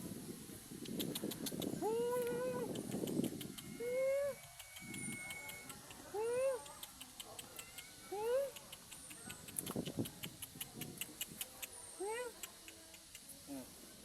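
A cat meows repeatedly in a series of short, rising and falling calls, fairly close and clear, with people talking now and then between the meows.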